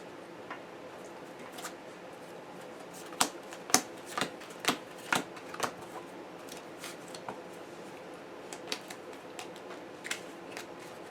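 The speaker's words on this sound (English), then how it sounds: "Shuffle cut." A deck of cards being shuffled and cut during a tabletop card game, heard as a run of crisp riffling snaps and taps, fairly faint and close, with quiet room tone between the bursts.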